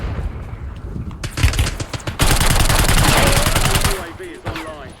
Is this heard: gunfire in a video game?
yes